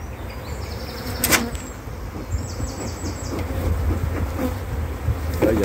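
Honeybees at open spring hives in an apiary, a dense, steady buzz close by, with individual bees zipping past the ear now and then.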